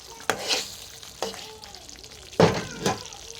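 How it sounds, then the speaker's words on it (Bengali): Egg korma in a pan being stirred after a pinch of sugar goes in, with soft intermittent scrapes and clatters of the spoon over a quiet, steady sizzle, no talking. "লাড়িয়ে চাড়িয়ে দেবো"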